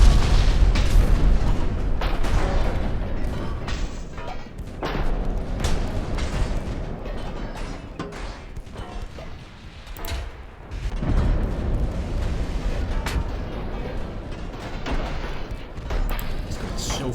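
Naval gunfire and shell impacts in the video game Ultimate Admiral Dreadnoughts, heavy booms and crashing hits rolling almost continuously in dense overlapping waves, loud and rumbling, with a dip in intensity partway before the barrage resumes.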